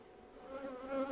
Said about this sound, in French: ça vrombrile toujours